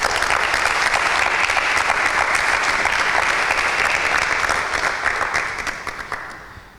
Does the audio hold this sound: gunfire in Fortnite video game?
no